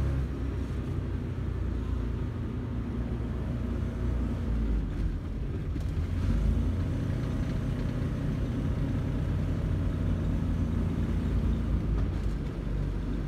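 A steady, low engine drone runs throughout, a Renault car powered by a 670 cc Predator V-twin humming evenly at moderate volume with no voices.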